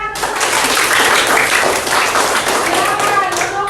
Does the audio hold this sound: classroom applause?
yes